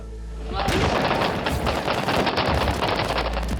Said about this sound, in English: they were firing down at the Taliban as the Taliban assaulted their home